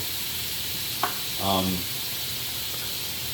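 Food searing in a Deluxe multi cooker after being flipped, a brief click followed by a short, soft burst of sizzling, faint and fairly close.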